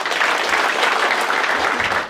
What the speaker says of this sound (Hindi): उन सबके लिए ताली बजा दो एक बार।